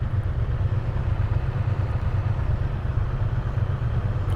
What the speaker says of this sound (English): So I am on a Triumph Bonneville T120.